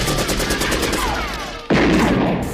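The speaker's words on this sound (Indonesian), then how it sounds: "mereka memberondong gudang tersebut dengan tembakan" Rapid bursts of film gunfire rattle in quick succession as a warehouse is riddled with shots, then a loud blast hits partway through, sharp and close with echoing tails.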